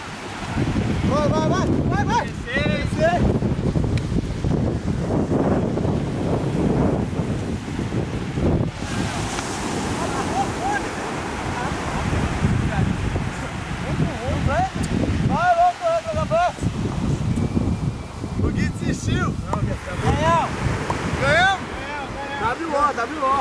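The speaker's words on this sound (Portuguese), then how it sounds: "O mar tá subindo." Ocean waves wash and break continuously at a beach with the sea rising, a dense roar of surf mixed with gusty wind buffeting the microphone, while people talk and shout over it throughout.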